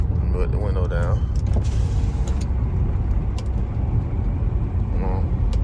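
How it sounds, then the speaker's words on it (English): An Audi's power window lowers with a steady electric motor whir inside a moving car, under loud road and engine rumble, with a person talking briefly at the start and near the end. "Put the window down."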